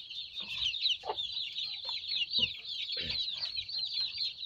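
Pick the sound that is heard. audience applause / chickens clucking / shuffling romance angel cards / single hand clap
chickens clucking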